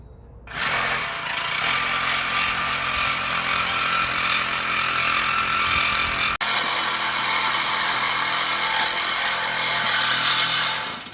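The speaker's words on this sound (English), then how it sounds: "we're using the sawzall right here for the middle" A sawzall cuts through the exhaust pipe of a Toyota Tundra with a 4.6L engine, its loud, harsh reciprocating buzz starting abruptly and running steadily up close, with one brief catch midway.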